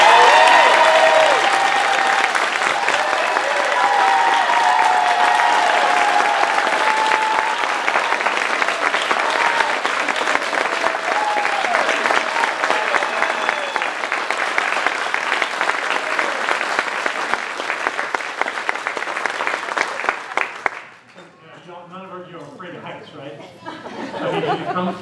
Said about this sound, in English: We can start with some applause.